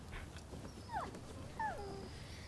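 A dog in the Rise of the Ronin video game whimpers softly, two short whining calls over a quiet game soundscape.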